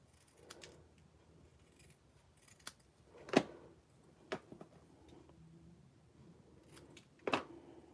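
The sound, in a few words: trimming cardstock for a card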